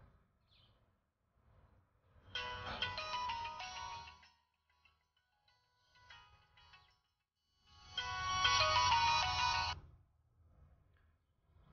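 A phone rings unanswered in two loud bursts, each about two seconds long, with a quiet pause between them and no talking.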